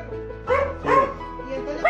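A single dog gives two or three short, loud barks at close range, mixed with voices talking in the background.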